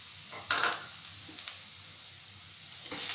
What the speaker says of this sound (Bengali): তেলের সঙ্গে মিশিয়ে কয়েক সেকেন্ড সটে করতে হবে।